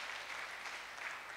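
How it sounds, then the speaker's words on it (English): Congregation at a Sunday church service clapping together, a dense, even patter of many hands that stays steady and fairly faint throughout, with no voices standing out. "Shall you clap for the Lord"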